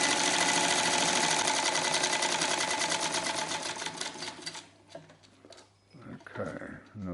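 A Cowboy CB246 industrial sewing machine stitches in a fast steady whirring chatter for about four and a half seconds, loud and close, then stops, leaving quiet shuffling and handling noises.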